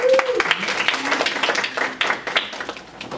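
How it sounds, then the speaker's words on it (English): A seminar audience claps for themselves, a modest, uneven round of hand clapping from a smaller group, fluctuating in loudness with some voices mixed in. "So give yourselves a round of applause."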